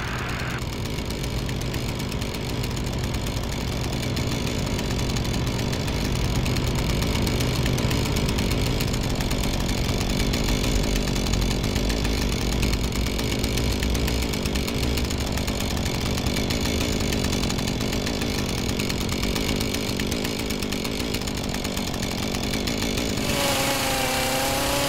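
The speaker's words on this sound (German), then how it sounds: "Ast auf Fußgängerweg, keine weiteren Schäden zu erkennen. Räumungsmaßnahmen mittels Kettensäge werden eingeleitet." A chainsaw runs continuously at high revs while firefighters clear a fallen branch from a footpath, a loud, close, sustained buzzing whine for over twenty seconds that drops off near the end.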